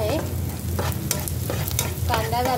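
Onion frying in a pan with a pinch of asafoetida, a steady close sizzle broken by several scraping stirs of a spatula, with no talk.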